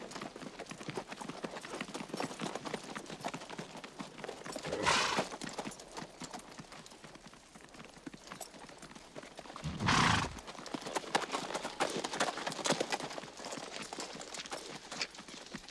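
Several horses clatter along in a steady run of hoofbeats, with two loud whinnies rising above the drumming, no talk over it.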